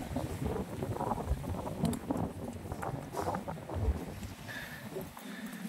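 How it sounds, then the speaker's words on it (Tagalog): Strong wind roars steadily across the microphone on a foggy mountain trail on Mt. Ugo, a dense, buffeting rumble with no pauses, easing slightly at the very end. "Lakas ng hangin guys."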